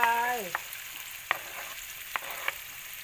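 Onions fry in a pan with bacon, hissing at a soft, steady level close by, broken by a few sharp clicks of utensils. A brief tonal sound opens the recording.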